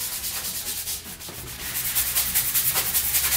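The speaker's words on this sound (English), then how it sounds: "these sanding sponges are super nice because you're able to easily hold it and it really doesn't take too much effort" A handheld sanding sponge rubs back and forth across a board-and-batten wall trim piece in quick, even swipes, a close, soft rasping scrape repeating steadily with no talk.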